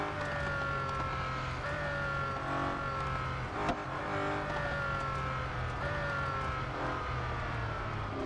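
Race car engine in the Real Racing 3 mobile game, a loud, steady high-pitched whine with layered tones that waver slightly as the car slows for a corner, continuous throughout with a brief click midway.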